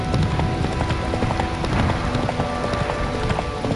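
Roach, Geralt's horse in The Witcher 3, gallops close by with a rapid, continuous clip-clop of hooves, set against a dense background hiss much like rain.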